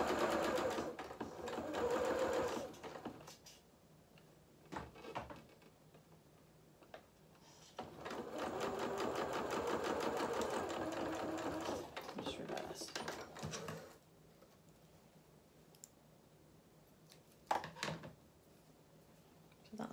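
A domestic sewing machine stitches fabric in bursts of fast, steady mechanical whirring, stopping and starting between runs, close and moderately quiet, with a few soft clicks and handling sounds in the pauses.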